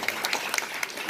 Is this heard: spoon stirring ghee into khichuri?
no